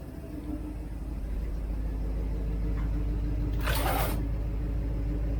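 Exhaust note at the tailpipe of a 1967 Mustang with a 390 engine, a steady deep low rumble close to the pipe, with a brief hissing burst near the end.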